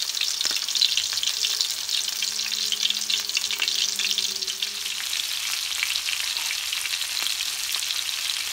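Shrimp sizzle and crackle steadily in a hot pan, a close, continuous fry with occasional small pops and no talking.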